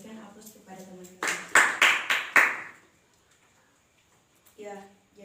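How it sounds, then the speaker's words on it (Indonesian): Classmates in a classroom break into a short burst of applause, several loud claps in quick succession lasting about a second, with speech before and after. "Berikan aplaus kepada teman-teman."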